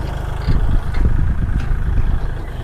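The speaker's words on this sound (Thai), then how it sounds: "ระวังรถไถถอย" A tractor engine runs and reverses in a rice field, a steady low mechanical rumble with clattering irregular knocks, fairly loud and close, with no talking.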